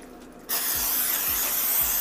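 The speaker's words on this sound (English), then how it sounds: "Spray it with some Pam." A short, steady hiss of Pam aerosol cooking spray onto a baking dish starts abruptly and continues for over a second, close by.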